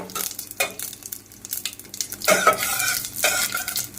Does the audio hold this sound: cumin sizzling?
yes